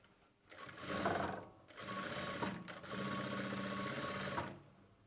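Sewing machine stitching a churidar slit through lining and main fabric, running in three steady whirring bursts separated by short pauses, close and alone.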